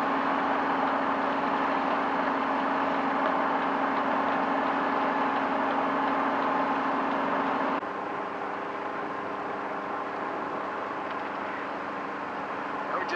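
A boat engine drones steadily while cruising along the north coast of Zarembo Island in Alaska, a constant close hum that drops slightly in pitch and level partway through.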